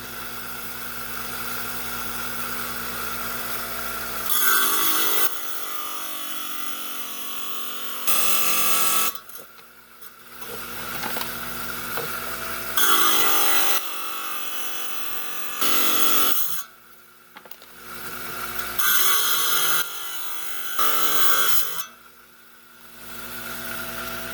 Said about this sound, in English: right, we're on a 5-inch high-tech trim saw. Got my cutout for my Rhodonite here, and we're going to trim it out.